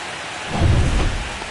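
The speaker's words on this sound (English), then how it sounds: "It really feels like we might be running out of time before a rain delay is called. This rain is not letting up." Heavy thunderstorm rain during a baseball game in MLB The Show 25: steady hiss of downpour with a low rumble of thunder swelling in the middle, no voices.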